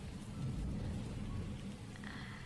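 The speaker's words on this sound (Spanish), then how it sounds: "Hoy llueve tanto que es casi imposible conseguir un taxi." Heavy rain pours steadily in the video game WILL: A Wonderful World, a dense, even hiss with low rumbling underneath, continuous and fairly soft throughout.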